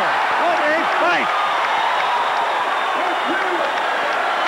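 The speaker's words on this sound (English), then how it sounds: "The crowd is on its feet." A boxing arena crowd roars and cheers at the end of a classic Hearns fight, a loud continuous wash of crowd noise with commentators talking over it.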